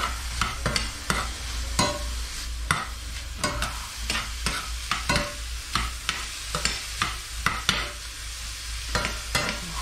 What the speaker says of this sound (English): Okay, give it a stir